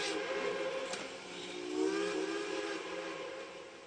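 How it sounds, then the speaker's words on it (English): A steam train whistle sounds far off as a long, soft, wavering tone drawn out over several seconds, faint against a hissing, breathy background. "The wet, lonesome whistle of a steam train in the distance."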